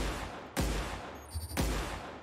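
An energy weapon fires twice in The Outer Worlds, two loud sharp blasts about a second apart with a faint whine between them.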